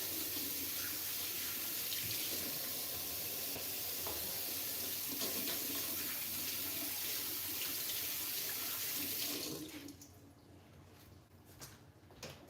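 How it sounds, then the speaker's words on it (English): A kitchen sink tap runs steadily for hands being washed during cooking, a broad continuous water rush lasting about nine seconds before shutting off, leaving a quiet room. "Let me wash my hands."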